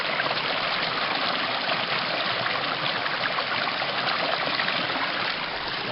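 The Lot river flows with a steady, close, continuous rushing and babbling of water, unbroken and without voices.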